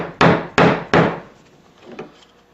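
Hammer tapping a 1/16 inch dowel to punch pieces out of a key lock, three sharp loud strikes in quick succession followed by a fainter knock.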